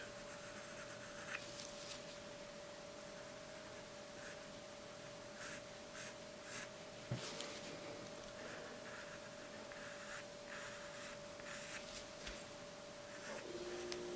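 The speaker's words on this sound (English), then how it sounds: "I'm going to come up on the point and just very softly and slowly draw that around" A pencil moving softly and slowly over paper while sketching gives a faint, close, continuous scratchy whisper with small bursts of stroke texture, very quiet over a thin steady hum.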